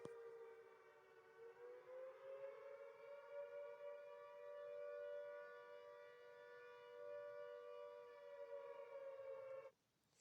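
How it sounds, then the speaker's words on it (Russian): A Siren Head style civil defense siren sound effect gives a long, loud, steady wail that dips and swells a little in pitch, then cuts off abruptly near the end. "Сегодня мы будем слушать сирены. Здесь есть разные сирены. Например, сиреноголового."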